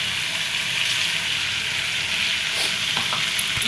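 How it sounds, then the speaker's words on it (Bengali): Fried potatoes and liver being stir-fried in a pan, a continuous loud sizzle with a few faint clinks of stirring near the end. No voices are heard. "আলু আর এই কলিজা দিয়ে আর একটু কষায়ে তারপরে ঝোলের জন্য জল দিয়ে দিব।"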